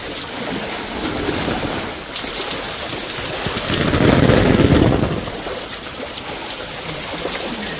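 A flooded village river in spate, a broad, continuous rushing roar of fast water heard from nearby, swelling louder for a moment midway and carrying a faint wind.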